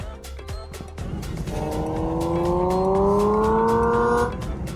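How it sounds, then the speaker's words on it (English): A Chinese electric car plays a simulated gasoline engine sound, a smooth rising drone that climbs steadily in pitch like an engine revving up, running several seconds over low road rumble and then cutting off. "I could change a setting so that this EV sounds as though it's running on gas"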